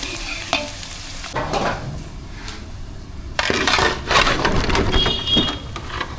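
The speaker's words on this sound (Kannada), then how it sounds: "ಬಿಸಿ ಬಿಸಿ ಎಣ್ಣೆಗೆ ಈರುಳ್ಳಿ" Onions dropped into very hot oil for a jackfruit curry, crackling and sizzling loudly up close, with a surge as more goes in and spoon scraping and stirring through the hiss.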